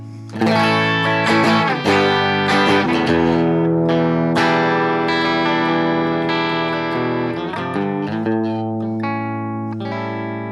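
Electric guitar played through blended Randall and Vox amp models on a BOSS GT-1000 with a Two Notes cab, ringing out loud overdriven chords and sustained notes that overlap and decay steadily with no talking.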